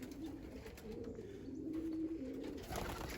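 Racing pigeons cooing softly at a loft after a 103-mile race from Claxton, Georgia, a low steady coo rising and falling over faint background noise and chirps.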